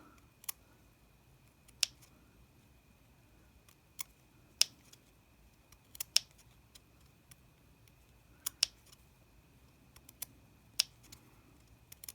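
Small snipping cuts made with scissors around a fabric circle for a scrap-fabric slow-stitching flower coaster, heard as a series of sharp, close clicks spaced irregularly over a quiet background.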